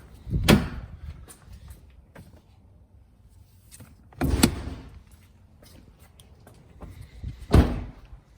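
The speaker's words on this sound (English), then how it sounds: "To get the latch open, we're gonna go to the driver's side of the vehicle, release the latch." Three separate muffled clunks with soft rattles, each well spaced, come from the latch and hood area of a Lexus GX470 against low background noise.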